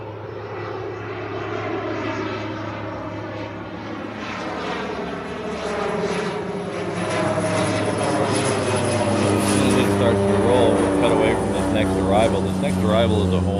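An Air China airliner on the reef runway at Honolulu fills the air with a steady, loud engine roar that swells toward the end, a low turbine drone underneath and whining tones rising above it.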